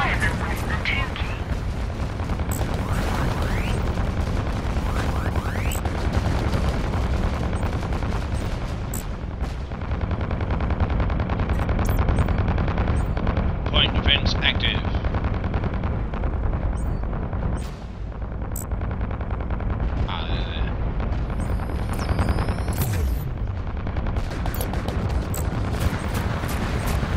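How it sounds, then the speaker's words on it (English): Missiles fire in the space combat game Fractured Space, a dense run of launches and booms over a steady engine rumble, with a voice speaking at times. "Use your missiles now."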